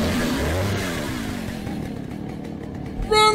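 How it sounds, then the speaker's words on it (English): A chainsaw-wielding enemy in Resident Evil 4 Remake roars nearby, a loud, rough motor buzz that wavers in pitch and then thins out, ending in a sharp burst of game sound. "Oh, it's a double chainsaw guy!"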